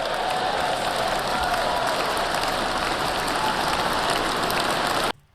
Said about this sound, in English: That is a well-deserved round of applause